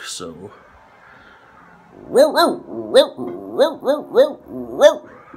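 A voice imitates a dog barking: after a short spoken word, a run of seven loud, evenly spaced woofs, close and clear.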